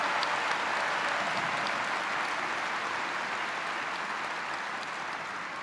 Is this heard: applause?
yes